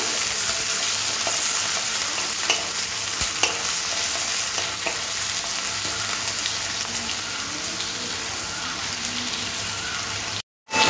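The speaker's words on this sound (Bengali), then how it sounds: "পেঁয়াজটাও লাল লাল করে তেলের মধ্যে একটু ভাজতে হবে" Sliced onions, two medium-sized, frying in oil for chicken Maharani: a steady close sizzle with soft stirring scrapes running throughout, ending in a brief silent gap near the end.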